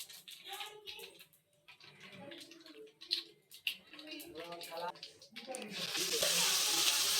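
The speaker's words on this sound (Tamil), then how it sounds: "அரைச்சதை நம்ம இப்போ இந்த எண்ணெயில் போடணும்." Ground adamant creeper paste frying in sesame oil for a thokku, a soft crackling sizzle with stirring and scraping that swells louder toward the end.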